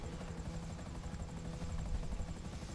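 A helicopter in a video game, its rotor chopping in a steady, dense drone that stays fairly loud throughout, with no voices over it.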